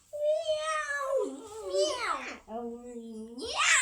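A voice imitates a cat, drawing out a few wavering meows in a row, close and fairly loud, with a little babbling between them.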